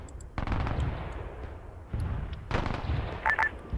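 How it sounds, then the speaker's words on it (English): Mortar strikes land in Arma 3 during a desert defense in a German WW2 setting: repeated booming impacts with rumbling tails, one near 0.4 s, another near 2 s and a cluster near 2.6 s, over constant battlefield noise. "I see some mortar strikes right now."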